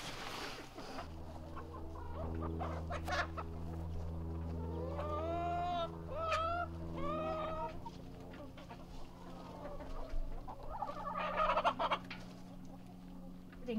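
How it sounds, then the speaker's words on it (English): A hen cackles after laying an egg, a run of loud repeated clucks rising into squawks, close by over a steady low background hum, with more excited clucking near the end. "That cackling that you hear, that walk, walk, walk, walk, walk, that's a chicken having an egg laying party."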